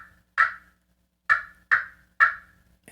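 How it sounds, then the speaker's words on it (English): Four sharp clucks from an aluminum turkey pot call with an Osage orange pot, loud and close, spaced unevenly with silence between them. "it's got great cuts and clucks, and you can purr really well on that aluminum side"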